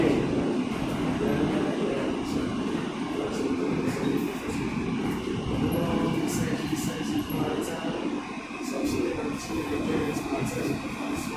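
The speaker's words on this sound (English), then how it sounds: "This is a Manhattan-bound L train." An R160A subway car on the Manhattan-bound L train running between stations, a continuous loud rumble of wheels and rail noise with rhythmic clacks, steady throughout.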